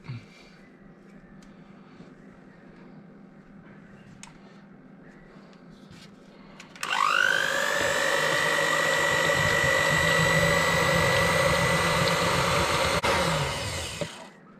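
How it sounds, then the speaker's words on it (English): An electric whisk beats macaron mixture until frothy, starting abruptly partway through with a steady, loud, close motor whine that holds evenly for several seconds before winding down. "So we're going to give that a whisk up."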